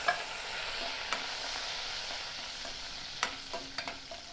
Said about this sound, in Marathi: कढीपत्ता तडतडलाय आपला